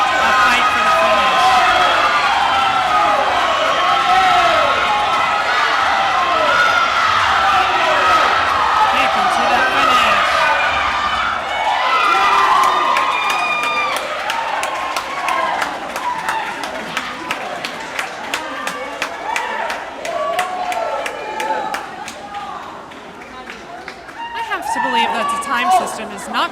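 Crowd cheering and shouting at a swimming meet during a close 400 freestyle relay finish, a loud sustained roar of many voices echoing throughout, with whistles and excited yells swelling near the end.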